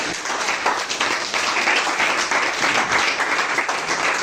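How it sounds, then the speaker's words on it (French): Dense, steady applause from a congregation at a church service, many hands clapping at once and sustained loud throughout with no talk over it. "Applaudissons pour eux."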